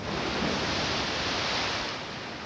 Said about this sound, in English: And now we have our wave sound.